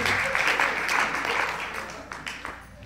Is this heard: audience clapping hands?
yes